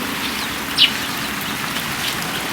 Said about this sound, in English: it's raining as if it's already November